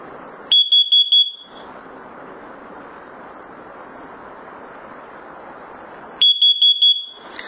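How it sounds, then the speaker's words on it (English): A First Alert carbon monoxide detector sounds its test pattern: two sets of four sharp, loud electronic beeps separated by a few seconds of hiss. "you hold the test button down until you hear a chirp, followed by a pair of 4 beeps"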